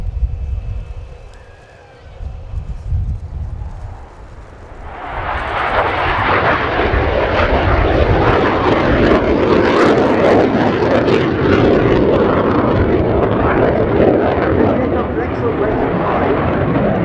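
A Romanian Air Force MiG-21 LanceR C jet roars into a loud, sustained, broadband rumble during a flying display at RIAT, swelling after a quieter start while a voice talks over it.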